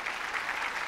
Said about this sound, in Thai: ขอให้พวกเรานะคะปรบมือดังๆให้กับทุก แหล่งเรียนรู้ของพวกเราด้วยนะคะ